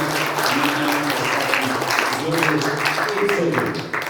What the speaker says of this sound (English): So I want to hear a big round of applause to those two guys.